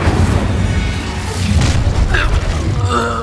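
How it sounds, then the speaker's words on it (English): A fire spell erupts in Hogwarts Legacy combat, a loud, deep booming blast with crackling, roaring flames and mechanical clatter, sustained close up for several seconds. "Incendio."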